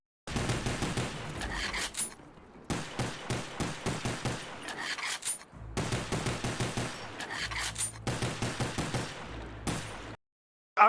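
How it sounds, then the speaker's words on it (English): An M1911 pistol in Call of Duty: Black Ops 1 fires in quick repeated shot strings, loud and near, broken by short gaps and reload pauses across several volleys. "just listen to how the 1911 sounds."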